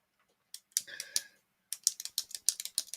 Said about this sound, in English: I'm hearing a lot of pin clicking right now.